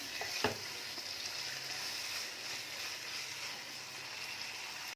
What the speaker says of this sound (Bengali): ফ্লেমটা এখন মিডিয়াম রেখে এটাকে এখন কিছুক্ষণ ভালোভাবে কষবো মশলাগুলোকে।